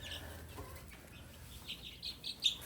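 Faint hens clucking and softly calling in a hen pen amid a low background rumble, with a few brief bird chirps toward the end.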